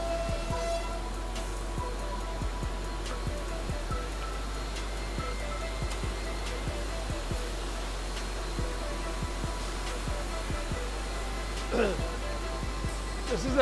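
A shop-built drilling machine bores holes in a skateboard deck at a factory, giving a steady whirring motor drone with a regular series of sharp ticks running through it, close and continuous.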